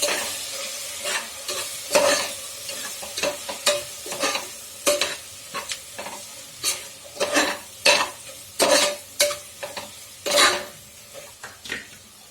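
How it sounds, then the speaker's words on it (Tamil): Coriander powder stirred into potatoes frying in a pan for potato biryani: a ladle scrapes and clanks against the pot in repeated strokes over a steady sizzle, close and fairly loud, with no talk. "அடுத்தது கொத்தமல்லி தூள், போட்டு நல்லா கலரி விட்டுருங்க."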